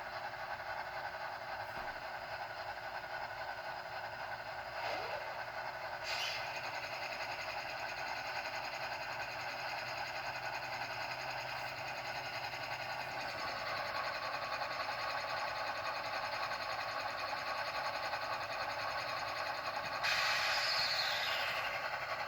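Scaletrains SD40-2 model locomotive straining under a heavy load, a steady mechanical whir and motor hum running continuously with faint clicks and a brief high squeal near the end.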